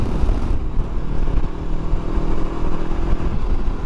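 A 2021 Honda CB500X engine revs hard on the road, a loud, close, steady drone that climbs slightly as the bike is pushed to about 70.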